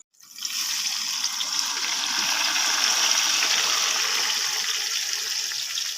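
Chicken dropped into hot oil in a wok sets off a sudden, loud, steady sizzle and crackle that continues close up, with no talk over it.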